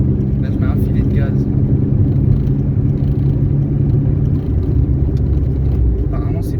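A VW Golf 3 TD diesel engine with its turbo removed runs under light throttle, giving a steady, loud low rumble that holds even throughout.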